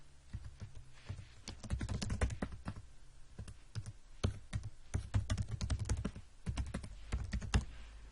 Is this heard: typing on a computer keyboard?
yes